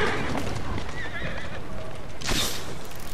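Horse-drawn carriage in the video game Assassin's Creed Syndicate, a horse whinnying loudly near the end over steady hoof clip-clop and rolling wheel noise, close and continuous.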